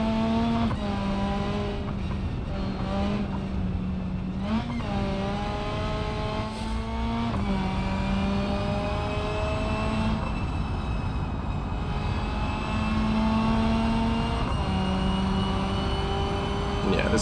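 Race car in the BeamNG.drive driving game, its engine whining and droning steadily as revs climb and drop through repeated gear changes at a constant loudness.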